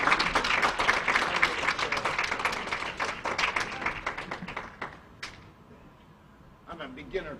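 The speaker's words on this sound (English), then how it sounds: "everybody give a round of applause for Dwayne" An audience at a 2011 veterans' talent show claps for a trumpet player. The applause is loud and dense at first, then thins and dies away, with a few stray claps and a voice near the end.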